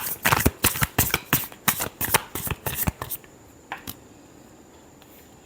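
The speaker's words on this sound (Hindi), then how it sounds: "last shuffle" Tarot cards being shuffled by hand in a series of quick, crisp riffling bursts close up for about three seconds, then quiet, with a faint voice briefly at the end.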